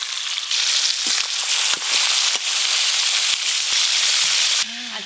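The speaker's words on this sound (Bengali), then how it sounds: "সব মাছ তো একবারে ভাজা যাবে নি" Pieces of shankar fish (stingray) fry in hot oil with a loud, steady sizzle and scattered crackling pops that drop away briefly toward the end.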